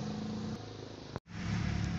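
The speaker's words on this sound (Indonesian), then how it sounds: "Mesin sudah saya hidupkan." A car engine, started up after a ground cable was extended with extra wire, runs steadily with a continuous mid-pitched hum, briefly cutting out for a moment before resuming at a similar level.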